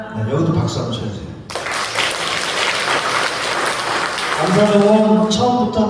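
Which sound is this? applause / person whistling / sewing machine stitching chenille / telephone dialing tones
applause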